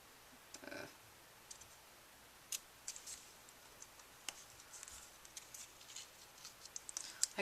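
Scissors cutting paper into a small flag shape, quiet scattered snips and clicks at close range, sparse and irregular against a faint background.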